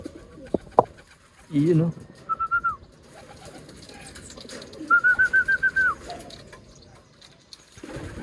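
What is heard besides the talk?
pigeons cooing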